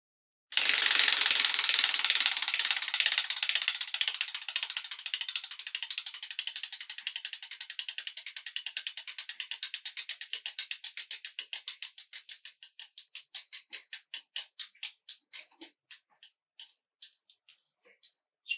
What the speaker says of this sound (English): I'm ready to spin the wheel.